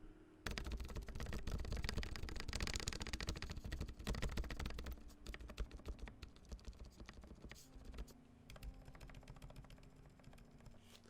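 Close, quick clacking bursts come from typing on a Duck Octagon v3 mechanical keyboard, with dense keystroke runs that thin into scattered individual presses toward the end.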